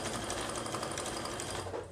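A sewing machine re-stitches a seam on a fabric notebook cover, running as a steady, loud, fast whirring buzz for about two seconds before easing off at the end.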